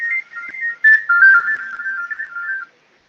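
A phone ringtone plays a clear, whistle-like melody of short connected notes for about two and a half seconds, then stops and leaves silence.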